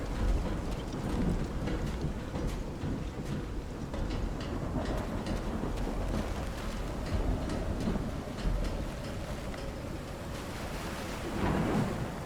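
A thunderstorm in the video game Call of the Sea, with steady rain and a continuous low rumble of rolling thunder that swells near the end, loud and unbroken with no talk over it.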